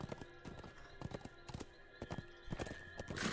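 Horse hooves clip-clopping at a steady trot in The Lord of the Rings Online, a run of sharp, fairly close hoof strikes with a brief whinny near the end.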